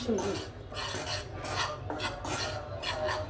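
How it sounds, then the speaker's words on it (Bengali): Semolina being dry-fried and stirred in a pan for a Bengali sweet pitha, a soft continuous scraping and clinking of a utensil against the pan, close and fairly quiet, with no talking. "আমি সুজিটা ভালো করে ভেজে নিব"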